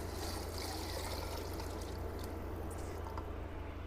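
Four cups of water pour steadily into a pot for plant-based broccoli cheddar soup, a continuous close rushing trickle with no talking over it.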